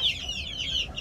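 Farm chickens cluck softly and steadily in a brief, close burst over a low background hum.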